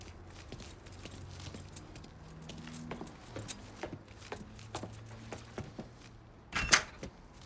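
Keys picked up in the video game Mafia 3, a series of light metallic jingles and clinks over a quiet hum, ending with a sharper jangle near the end.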